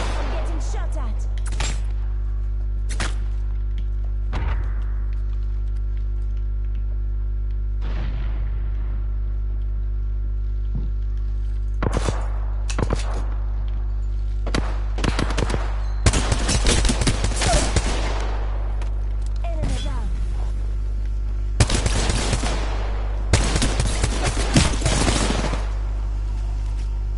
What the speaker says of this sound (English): Hostiles spotted. I'm getting shot at.